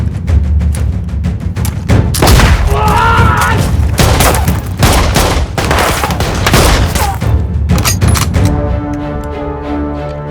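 Rapid gunfire and heavy booms from a war movie battle at a bridge, loud close bursts and volleys in dense succession, with shouting voices mixed in.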